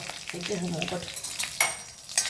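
Homegrown curry leaves crackle and sizzle in hot oil in a pan, with stirring scrapes and a couple of sharp spoon knocks over the steady frying hiss.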